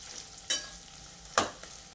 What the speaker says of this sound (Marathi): आता हे पण आपण 1 मिनिटभर तेलामध्ये परतून घ्यायचे आहे.